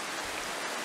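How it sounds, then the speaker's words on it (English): Rain falling in the video game The Final Station, a steady, even wash of hissing drops with no breaks, heard alone. "These guys are out in the rain"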